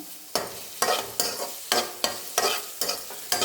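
Ingredients for chikkulu curry with senagalu, including ginger-garlic paste, fry in a pan under steady sizzling, with sharp spatula scrapes and stirs recurring about every half second.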